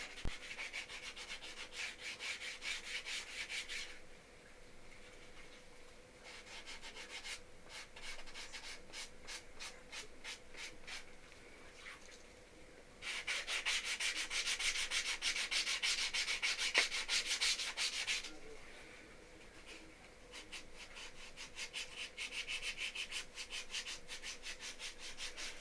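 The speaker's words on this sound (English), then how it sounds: "Run it up and down the sides. Kind of roughs up that leather just a little bit." Rough leather of a custom knife sheath being sanded by hand, repeated scratchy back-and-forth strokes in bursts with short pauses between, close and fairly quiet, no talking.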